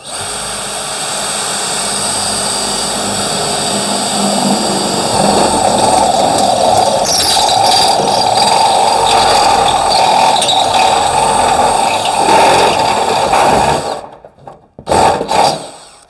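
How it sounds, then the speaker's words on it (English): A cone cutter on a power drill bores holes in a steel electrical box, giving a loud, steady whining grind that runs unbroken for about fourteen seconds, then cuts off with a brief final burst. "This is just a cone cutter on this one."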